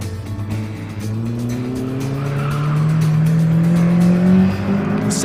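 A Mini fitted with a 1600cc Honda VTEC engine and 5-speed gearbox screams as it climbs through the revs, a loud rising engine whine with tyre squeal, close and sustained.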